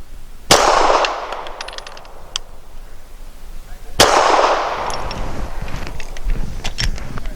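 A Grand Power Q100 pistol fires subsonic ammunition outdoors, two sharp, loud single shots about three and a half seconds apart, each followed by a short decaying echo and faint clinks.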